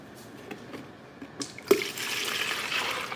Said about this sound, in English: I'm going to go ahead on and pour my oils in here